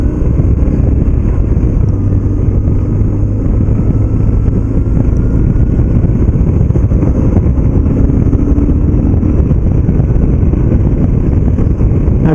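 A 2007 BMW R1200GS motorcycle drones steadily while being ridden, a loud continuous engine rumble mixed with rushing wind, with no talking.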